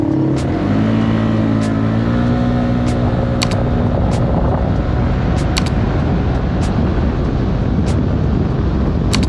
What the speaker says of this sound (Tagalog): ito yung video ko na pinatakbo ko siya ng 0 kilometers to 100 kilometers